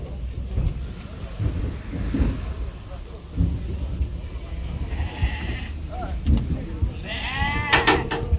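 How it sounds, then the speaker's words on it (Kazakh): A goat bleats a few times at a busy livestock market in Kyzylorda, mostly over a noisy crowd and people talking nearby, with a clearer bleat toward the end. "Ала ешкі, неше туған ешкі?"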